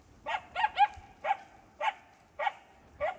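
A dog barks in a series of about seven sharp, separate barks at irregular intervals, moderately close and alone without talking.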